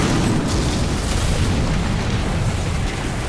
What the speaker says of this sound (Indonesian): Saat panggilan berakhir, rumah itu meledak